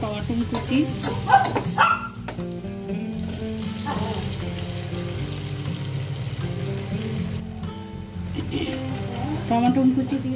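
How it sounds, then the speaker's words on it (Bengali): Chopped tomato going into frying onions in a wok, a steady sizzle and stirring with clattering, under a dog barking and voices talking in the background. "টমেটো কুচি দিয়ে দিলাম।"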